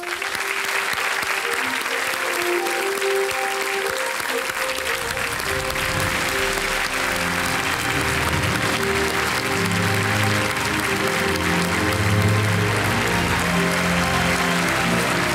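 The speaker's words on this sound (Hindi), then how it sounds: "तालियों के साथ अभिनंदन" Loud, sustained audience applause welcomes two doctor guests on a television game show, a dense wash of clapping that holds steady for about fifteen seconds with no talking.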